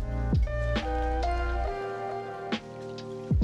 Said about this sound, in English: Let's go ahead and start with 2 ounces of vodka.